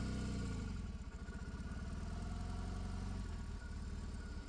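A 2024 BMW R 18 Roctane motorcycle with an 802cc boxer twin engine runs at a steady, low, throbbing idle, faint and continuous with no talk over it.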